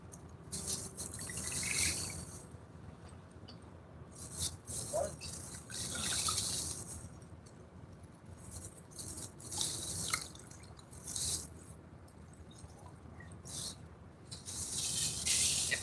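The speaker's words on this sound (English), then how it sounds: "Put a little bit more bait in the water out here," A corn, grain and soybean bait mix is tossed into water for carp fishing, giving repeated soft splashes and patters in irregular bursts, fairly faint and close, with no talk.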